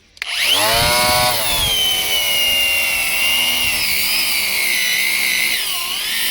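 A Chinese-made Bosch power tool motor starts abruptly and spins up within a second to a loud, high whine, then holds its speed steadily under heavy load. It stays close and alone.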